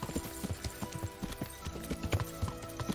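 A horse's hooves clip-clop in a steady, close, continuous rhythm while riding in the medieval game Kingdom Come: Deliverance, with a faint background tone behind the hoofbeats.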